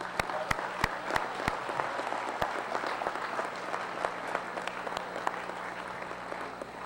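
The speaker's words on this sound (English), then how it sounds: "Please let's give them a big round of applause." Sustained applause from a school assembly audience for a high school choir and band at a Veterans Day event, even mid-distance clapping with a few sharp nearby claps standing out, steady throughout.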